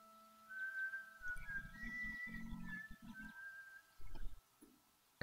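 A whistling bucket in the video game Broken Sword 5 gives a sustained, wavering tone that rises and falls over several seconds, with low clunking game sounds beneath and no talk.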